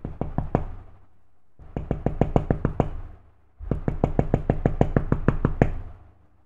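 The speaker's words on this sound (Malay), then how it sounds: "Sekali lagi bunyi ketukan datang dari dalam bilik tidurnya" Knocking comes from inside a wardrobe in a bedroom, three separate bursts of rapid, hard knuckle raps, each run of about five to twelve knocks, close and loud with short silences between.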